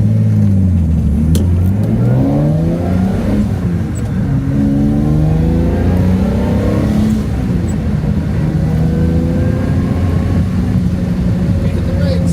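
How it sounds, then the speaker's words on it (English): A Jaguar E-Type fitted with a Tourist Trophy exhaust accelerates hard, and the engine note climbs through several rising sweeps as it pulls through the gears. It sounds loud and close inside the car, with voices talking over it. "I have the Tourist Trophy exhaust on here, so it's going to be a little louder than stock"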